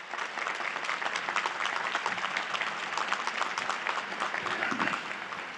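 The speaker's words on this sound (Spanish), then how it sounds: "Nos saludemos a ambos grupos con un aplauso." A large audience at a papal General Audience applauds in steady, dense clapping that runs throughout, heard from a distance in a big open space.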